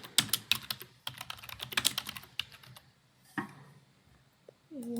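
Fingers type on a computer keyboard in short bursts of quick clicking keystrokes, close and fairly crisp, with brief pauses between runs and a soft tone at the end.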